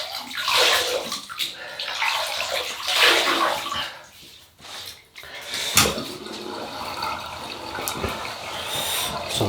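Tap water runs and splashes into a basin as a face is wetted before shaving, a steady close rushing with a brief dip mid-way and small splashes.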